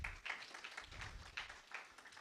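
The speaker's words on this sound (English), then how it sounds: "Let's give him another round of applause." Audience at a youth democracy forum in Ghana applauds with fairly faint, steady clapping that lasts the whole stretch.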